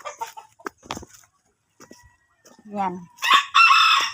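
A rooster at a backyard chicken coop clucks in short bursts, then crows loudly and close toward the end, with brief talk in between.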